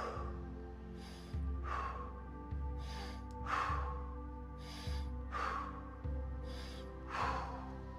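Slow, deep breathing in and out during an exercise session, about six audible breath cycles with airy rushes rising and fading in a steady rhythm, close and fairly quiet over a low background hum.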